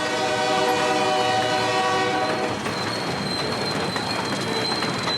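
A Georgia Northeastern Railroad freight train of two-bay cement hoppers rolls past close by, a loud steady rumble with a sustained horn tone fading into rattling wheels and clattering cars.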